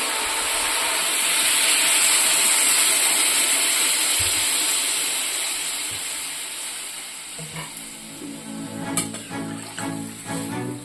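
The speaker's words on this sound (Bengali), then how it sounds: "পরিমাণ মতো জল দেবো" Water poured into a pan of okra, potato and prawn curry after the spices and vegetables have been sautéed, giving a loud steady hiss and sizzle that softens into bubbling with a few clinks near the end.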